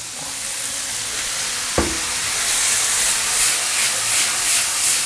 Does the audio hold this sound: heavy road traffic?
no